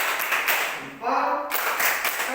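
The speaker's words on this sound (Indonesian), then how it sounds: "kita beri tepuk salut lagi" A primary school class claps in a short rhythmic cheer, a quick burst of dense group hand claps that pauses briefly and then resumes.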